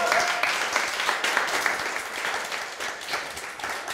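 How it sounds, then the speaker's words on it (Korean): Audience at a literary lecture concert applauding, a dense burst of clapping that stays steady and then tapers slightly over a few seconds, with no talk. "박수 한번 주세요"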